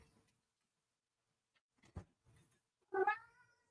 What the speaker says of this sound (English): Let me go get the kitty cat.